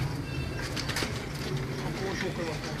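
Breeder pigeons coo softly in a loft, low murmuring calls running under steady background noise and people talking nearby.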